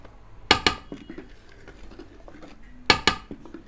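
Metal spoon or whisk clattering against a bowl while black forest cake batter is mixed, two sharp bursts of knocks separated by softer scraping and stirring noises, close and fairly loud.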